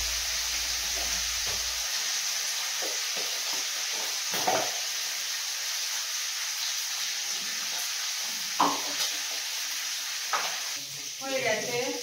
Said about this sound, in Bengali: হয়ে গেছে মাথাটা ভাজা